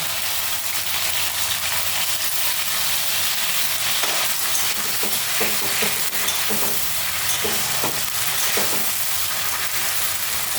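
Soybean chunks with a spice paste fry steadily in a pan, giving a continuous dense sizzle with occasional stirring clinks and scrapes, close and alone without talk.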